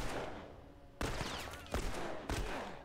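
Gunshots in The Last of Us: three loud, sharp cracks spaced about a second apart, each followed by a short ringing tail over a quiet background.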